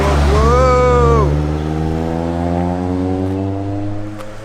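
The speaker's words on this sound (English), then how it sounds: "That was the Initial D car. That is the AE86." A Toyota AE86 passes by loudly with a strong steady engine drone and a sweeping pitch change, the revving note settling lower as it moves on while a voice exclaims over it.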